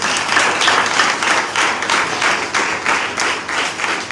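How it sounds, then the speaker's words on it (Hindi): A church congregation breaks into sustained, loud applause, with dense clapping that swells and dips in rhythmic waves for several seconds, alone without any talk over it. "आइए तालियां बजाइए"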